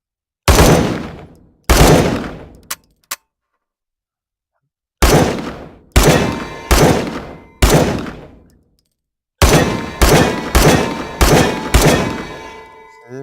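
Loud gunshots from a firearm in the VR shooting game Hot Dogs, Horseshoes & Hand Grenades: two single shots, a pause, then spaced bursts of sharp reports, each with a decaying echo, with no voices.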